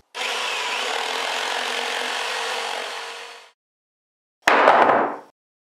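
A Ryobi cordless circular saw cuts through wood with a loud, steady whine for about three seconds, then winds down, followed after a pause by a second short, sharp cut.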